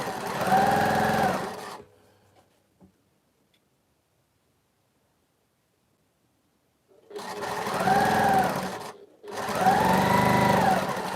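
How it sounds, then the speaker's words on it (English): Domestic sewing machine stitching a charm-square quilt, heard in two close bursts of steady whirring, the first about two seconds long and the second about four seconds after a pause of silence. "I am busy sewing the quilt"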